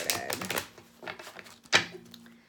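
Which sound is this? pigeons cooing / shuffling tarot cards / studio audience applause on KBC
shuffling tarot cards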